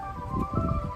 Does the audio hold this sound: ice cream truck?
yes